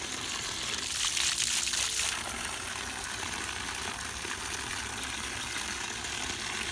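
Water runs steadily from the pipe of a solar-powered pump in a jujube orchard, a continuous broadband rush that swells slightly for a moment early on and then holds even and near, with no talking.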